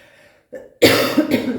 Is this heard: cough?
yes